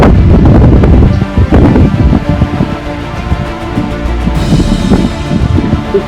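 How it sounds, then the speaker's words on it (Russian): Strong gusty wind ahead of a thunderstorm buffets the microphone, making a loud, continuous roar with rumbling low gusts throughout. "Оп, опять ветер пошел."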